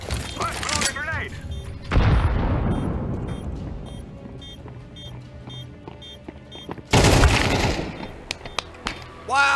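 Grenade blasts and gunfire in the video game Counter-Strike 2: rattling shots open, then two heavy booms land a few seconds apart, each with a long decaying rumble, loud and close.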